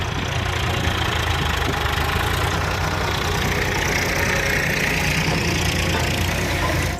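A tractor's engine runs in a steady, loud, rough chug as it destroys a radish field on a farm, with continuous outdoor noise and no talking.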